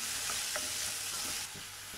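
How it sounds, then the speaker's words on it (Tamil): Chopped onions and green chilies sauté in a pan with a bright, close sizzle, a couple of stirring scrapes breaking through before the hiss softens slightly for the last moments. "அதுக்கப்புறம் வெங்காயமும் பச்சை மிளகாவும் கட் பண்ணியிருக்கோம் இல்லையா, அதையும் சேர்த்துக்கிறேன். இப்போ நல்லா வதக்கிறேன்."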